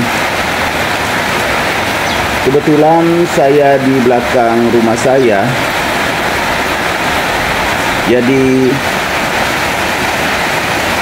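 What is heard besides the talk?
heavy rain falling behind a house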